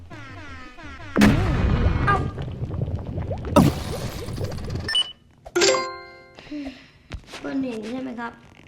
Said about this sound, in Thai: อยู่ดีๆ เกิดระเบิดข้างใต้นะฮะ